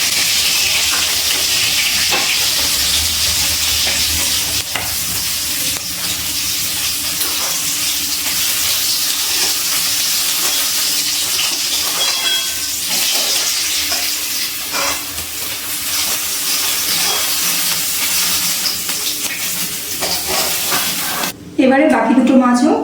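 Bata fish fry in hot oil with a continuous bright sizzle and hiss, close and steady, with faint stirring; a short clatter near the end.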